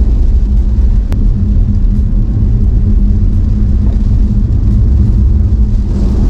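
A BYD Seal electric car cruising on a highway in heavy typhoon rain, a loud steady road and wind roar with rain noise, continuous and unbroken, with no talking.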